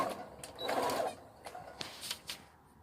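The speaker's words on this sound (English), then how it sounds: "I'm just going to put it on a sewing machine, and I'm gonna sew it together now." A sewing machine stitches sparkly legging fabric in short bursts, its quiet mechanical whir stopping and starting with faint clicks in a still room.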